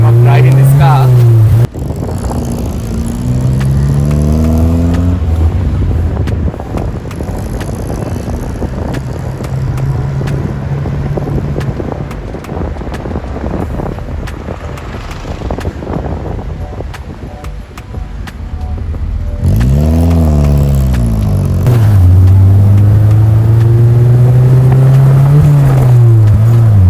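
A classic Austin Mini Moke driven in Sri Lanka, its small engine droning close and loud with rising and falling revs through gear changes, a steady buzzing run in the middle, then fresh acceleration sweeps toward the end.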